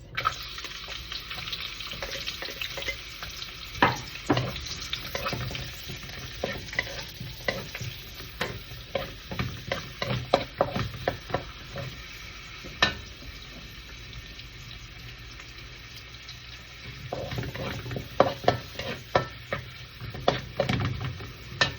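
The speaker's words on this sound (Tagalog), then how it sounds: "Okay, gisa-gisa lang tayo. Unahin natin ang sibuyas." Onions sautéing in a pan for a Filipino paella (bringhe), with a steady sizzle and frequent scraping and stirring clicks from a utensil, close and continuous throughout.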